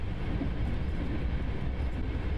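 Train rolling on rails in the game Last Train Home, a soft continuous low rumble with faint rhythmic rattle, steady throughout and without voices.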